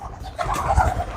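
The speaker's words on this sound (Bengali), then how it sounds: "অনেক অনেক কবুতর। হ্যাঁ অনেক কবুতর।" A flock of pigeons at a palace in Dinajpur, a soft, near, continuous cooing with overlapping low throaty calls, heard with no voices.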